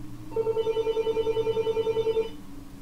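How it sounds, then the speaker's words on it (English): A telephone rings in the video game Fran Bow, one rapid trilling electronic ring lasting about two seconds, clear and moderately loud over a low ambient drone. "And there's the phone."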